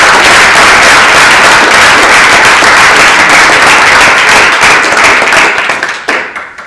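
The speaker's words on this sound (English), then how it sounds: "Let's give another round of applause." Audience at a university Native voices panel applauds loudly and steadily, dense clapping throughout that begins to thin and fade near the end.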